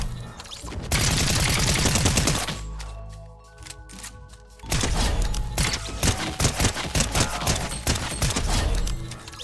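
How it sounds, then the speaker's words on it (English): Veiled Precision SMG fire in Fortnite, long fast rattling bursts of close shots, a sustained volley, a pause with clicking mechanical sounds, then another extended burst. "Now the Veiled Precision SMG."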